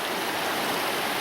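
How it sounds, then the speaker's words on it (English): A mountain stream on a walk up Coire Cruinn near Crieff, a close, continuous rushing babble of water that stays steady and loud throughout, with no voices. "I completely forgot about this stream"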